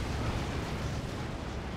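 A mortar shell exploding in the strategy game Dawn of War 2: Retribution, a dense, sustained roar of broadband blast noise with a heavy low end, loud and unbroken across the short stretch.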